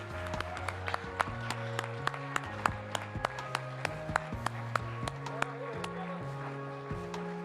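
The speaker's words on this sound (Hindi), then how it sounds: "सिर्फ 2 टेबल से तालियों की आवाज आ रही है वहां पर" Thin, scattered applause from just two tables at a rank-recognition ceremony: a handful of sparse claps spread across the stretch over steady background music.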